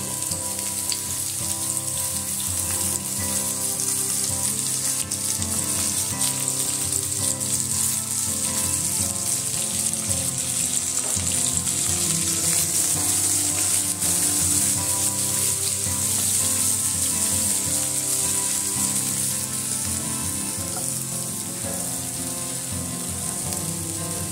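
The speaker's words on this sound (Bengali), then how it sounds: "আলু বেগুন মোটামুটি ভাজা হয়ে এসছে, এর মধ্যে দিয়ে দিচ্ছি কোচানো পেঁয়াজ" Potato and eggplant fry in hot oil with sliced onion tossed in, a dense and constant sizzle that runs loud and unbroken throughout.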